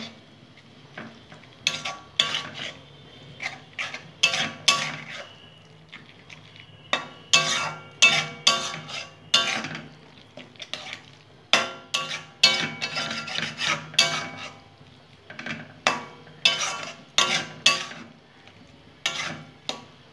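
Eggplant curry with coriander leaves is stirred hard in a pan, giving repeated rasping scrapes in an uneven rhythm over about twenty seconds. The sound is close and fairly loud.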